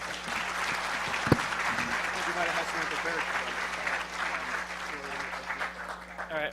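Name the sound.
audience applause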